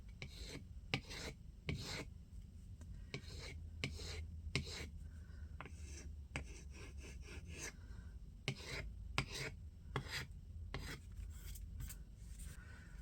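Paint rubbed and wiped off wood with a cloth to let the bare grain show through, a steady close scratchy rasp with repeated strokes, soft and continuous, without speech.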